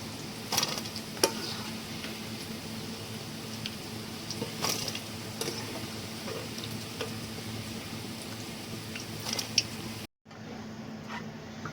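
Bitter gourd pieces frying in a pan for a Telangana-style spice powder give a steady, soft sizzle with scattered crackles and occasional stirring scrapes, cutting off near the end.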